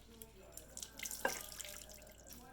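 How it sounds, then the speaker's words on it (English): Dirty water squeezed from an ENJO kitchen cleaning glove drips and trickles into a small bowl, a soft near splash with a few scattered drips and no talking. "I'm going to squeeze this out"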